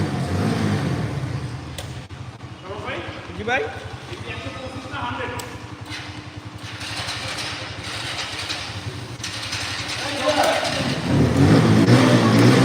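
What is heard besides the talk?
motorcycle engine revving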